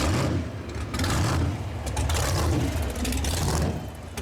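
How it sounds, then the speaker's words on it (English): A blown 1,300-horsepower custom American muscle truck revs hard, a loud, close, rumbling burst of engine noise that surges and falls in waves for a few seconds without speech. "That engine sounds terrifying."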